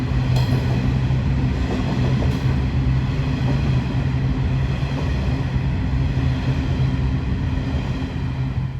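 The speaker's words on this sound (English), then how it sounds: "this whole train took around 4 minutes to pass through Sandgate Station" A long freight train hauling coal hoppers rolls through Sandgate Station on the Hunter Line. It makes a loud, steady rumble and grinding wheel drone with faint rhythmic clatter, unbroken and without speech.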